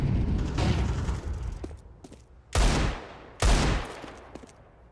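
Counter-Strike 2 flashbang and fire grenade throws sound as a sharp burst of gunfire-like cracks followed by two loud, booming blasts a second apart, each fading quickly.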